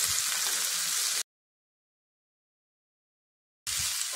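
Cabbage and carrot sauté in a pan over a medium flame, giving a steady close hiss and sizzle that breaks off into silence midway and then returns.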